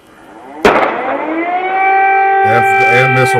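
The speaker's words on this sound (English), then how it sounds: "And there goes air raid sirens." Air raid sirens in Ukraine wail in long rising and steady tones after a sharp bang, with a second siren layer joining, loud and sustained.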